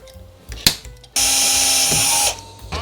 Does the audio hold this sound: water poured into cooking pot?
no